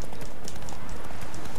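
Horse galloping in The Witcher 3 during a race, a steady dense clip-clop of hooves running loud and continuous throughout.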